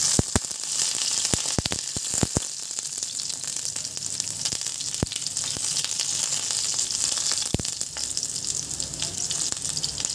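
Finely chopped garlic fries in hot oil in a pan, giving a continuous loud hiss dotted with sharp, scattered pops and crackles, heard alone without speech.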